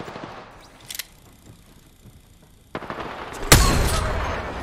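Gunfire in the video game Apex Legends, a short burst near one second followed by a loud, sustained barrage of shots from about three and a half seconds onward, with no voices.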